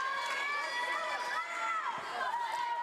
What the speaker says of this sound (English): Crowd is electric here.